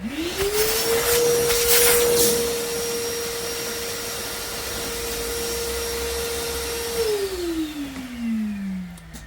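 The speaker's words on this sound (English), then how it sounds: "Gonna vacuum it up again." A vacuum cleaner whirs up to a steady, loud drone, holds for several seconds, then winds down as the motor slows.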